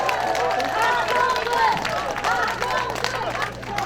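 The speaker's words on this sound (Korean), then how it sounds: "우리 다시 한번 큰 박수 부탁드립니다" An audience at a Korean political campaign rally claps in a crowd, the applause mixed with murmuring voices and cheering, a host talking over it.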